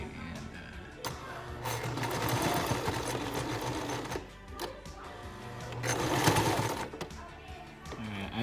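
A sewing machine stitching a cloth mask runs in two long whirring bursts with a brief pause between, close and fairly loud, with a voice faintly in the background.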